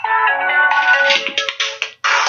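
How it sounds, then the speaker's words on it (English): Electronic phone ringtone for an incoming call, a melodic tone pattern that plays loud and alone, with a short gap near the end before it resumes. "I have a phone call"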